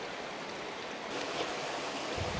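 A rocky river runs through a narrow path in Litchfield National Park, Northern Territory, giving a steady, soft rushing wash of water at a distance, with no voices.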